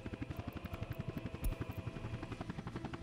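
Helicopter in the city-building game Workers and Resources: Soviet Republic, a steady rotor chop with rhythmic thudding pulses over a continuous engine drone, close and fairly loud throughout.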